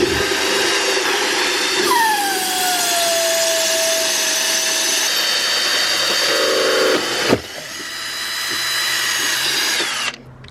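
A power drill bores into the fiberglass wall of an RV black tank, first run in reverse and then forward, giving a loud steady whine that shifts pitch, pauses briefly and then resumes until it stops near the end.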